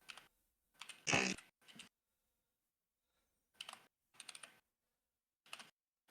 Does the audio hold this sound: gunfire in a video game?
no